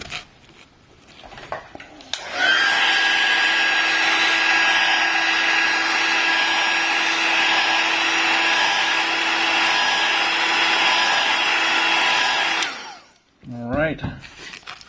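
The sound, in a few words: heat gun warming iPhone screen to remove glass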